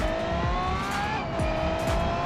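An F1 car converted for road use drives through an Italian city in a video game, its high-pitched engine droning steadily with rising and falling revs over a dense, continuous road roar.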